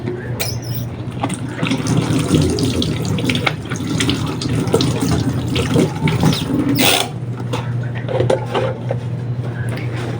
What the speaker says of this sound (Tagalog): Balik naman tayo dito sa ating kusina at maghugas na naman tayo ng ating lutuan.